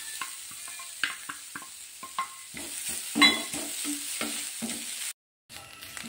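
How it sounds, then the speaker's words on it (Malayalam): Grated coconut sautéed dry in a pan for a brinjal chammanthi, with a steady hiss under repeated scraping strokes of a spoon and a brief silent gap near the end. "ഇനി നമുക്ക് ഈ നാളികേരം ഒന്ന് വഴറ്റിയെടുക്കാം."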